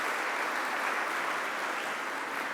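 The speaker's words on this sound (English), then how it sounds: "applause for this second part of the panel" A conference audience at a summit applauds a panel, giving an even, continuous wash of many hands clapping at steady loudness throughout.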